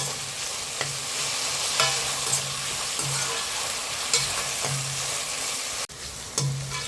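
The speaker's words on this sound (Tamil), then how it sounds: "வெங்காயம் பாதி வதங்கிடுது." Onions with coarse salt sautéing in a pan for a chicken curry, a steady close sizzle broken by repeated short scraping strokes of stirring throughout.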